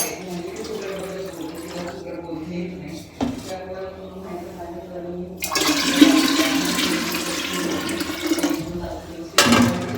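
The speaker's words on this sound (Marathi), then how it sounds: "त्याच्यात टाकून देते पाणी." Water is poured from a container into a small clay water pot in a home kitchen, a loud gushing splash filling the second half after quieter sounds and a voice at the start.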